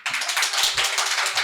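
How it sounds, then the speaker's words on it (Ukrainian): A short, busy round of audience clapping, quick overlapping hand claps forming a crisp, even patter for about a second and a half. "Аплодуємо літо."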